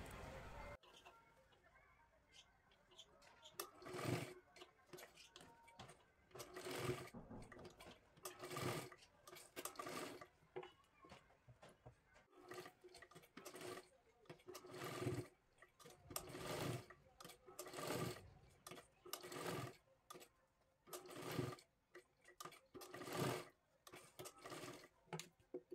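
A sewing machine stitches a lehenga dress for a small girl in repeated short bursts of rapid whirring, broken by brief pauses, with quiet background sounds between runs.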